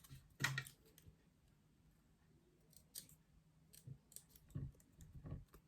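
Scissors cutting decorative craft paper for a handmade card, a few quiet separate snips spread out with pauses between them, close and faint.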